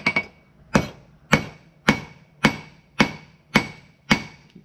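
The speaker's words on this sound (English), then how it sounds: "I'm going to start hammering in the point" A hammer strikes hot steel being forged into the point of a patch knife, with about nine sharp metallic blows in a steady rhythm roughly every half second, close and ringing briefly after each hit.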